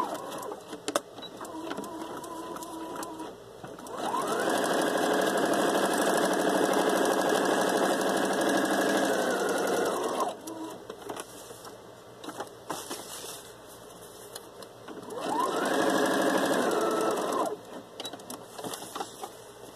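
A sewing machine stitches a tablecloth liner into a small angel gown, running in two close bursts, a long steady whir of about six seconds and a shorter one later, with quiet handling noises between.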